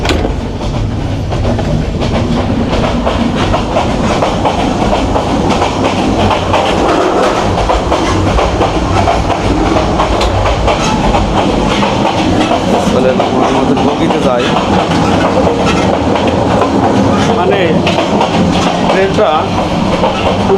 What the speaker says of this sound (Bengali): এই ট্রেনটা হচ্ছে সুবর্ণ এক্সপ্রেস